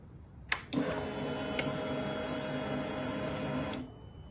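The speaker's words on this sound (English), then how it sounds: "Oh, we have power. The fuel pump primed." A sharp click, then a 2008 Yamaha R6 motorcycle's fuel pump primes with a steady mechanical whirring buzz for about three seconds and stops with another click.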